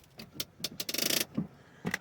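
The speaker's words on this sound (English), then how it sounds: "So let me engage the e-brake" A Nissan Murano's electronic parking brake engaging inside the cabin: a series of short mechanical clicks, then a brief whirring motor burst, and a couple more clicks after it, close and fairly quiet.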